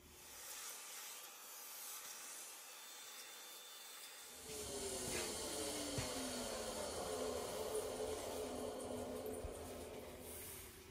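A shop vacuum cleans milling chips off a milling machine table, starting with a faint hiss and then switching to a louder steady roar mixed with rattling debris.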